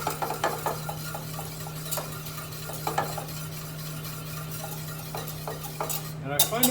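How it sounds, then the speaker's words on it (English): Butter pieces being whisked into a beurre blanc sauce off the heat: quick, repeated metal whisk clicks and scrapes against a pan over a low steady hum, close and moderately loud. "these get whisked in"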